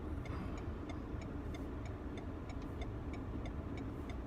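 A car crawls in low gear along a snowy road, a steady muffled engine rumble and tyre noise heard from inside the cabin, with faint regular ticking over the top and no talk.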